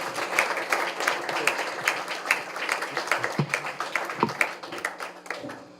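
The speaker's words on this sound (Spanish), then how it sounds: "Les pido que le demos un aplauso para animarlo." Close, dense applause from a lecture audience welcoming a speaker, steady overlapping claps that thin toward the end.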